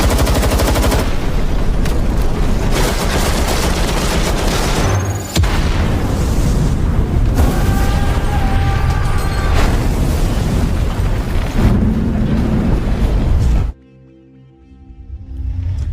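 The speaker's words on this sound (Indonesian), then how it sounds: "akhirnya John memerintahkan untuk meledakkan rumah tersebut" A house blown up amid gunfire in a film scene, with loud sustained explosions and rattling shots over a dense roar that cuts to near silence at the end.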